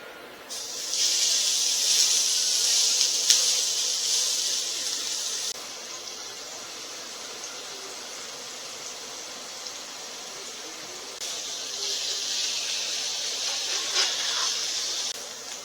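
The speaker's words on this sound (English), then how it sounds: "So I have a skillet at medium-high heat, and we're just going to add that meat that we've grounded already" Ground meat browns in a skillet over medium-high heat, a bright steady sizzle that surges for several seconds, drops to a softer hiss, then swells again near the end.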